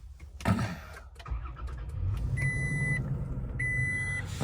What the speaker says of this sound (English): Let me turn the car on and run through the rest of the stuff with it on.